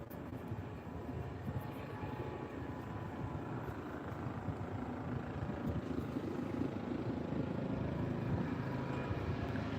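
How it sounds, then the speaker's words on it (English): A helicopter flying overhead drones steadily, a low continuous rumble that grows slightly louder over time, with no talking. "Sounds like a helicopter, doesn't it?"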